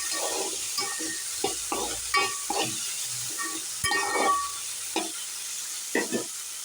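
Grated coconut and spices sautéing in a pan for a fish curry, a soft steady sizzle broken by repeated scraping strokes of a spoon stirring, close by and fairly quiet.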